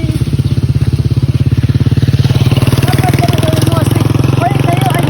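A motorcycle engine runs at a steady, throbbing idle close by, its low pulsing continuous throughout, with faint voices and chirpy background sounds above it.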